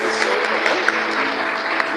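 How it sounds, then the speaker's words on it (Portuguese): A church congregation applauds together, a steady wash of many hands clapping at close to moderate distance for a couple of seconds, with no voices standing out. "Mais uma vez, vamos aplaudir Jesus."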